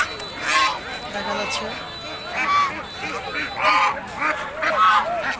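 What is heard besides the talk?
geese honking at a market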